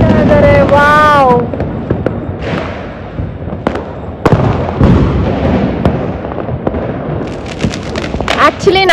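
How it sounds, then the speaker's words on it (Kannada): Firecrackers bursting on a terrace during Diwali celebrations: repeated sharp pops and bangs, some close and loud, over a steady crackling din, with a whistling rocket near the start and voices in the background. "ಫುಲ್ ಪಟಾಕಿ ಹೊಡಿತಾ ಇದ್ದೀವಿ"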